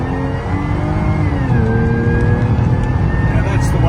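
A supercharged Jeep Gladiator accelerates hard, its engine roaring loud and close with a rising whine that climbs steadily through the run.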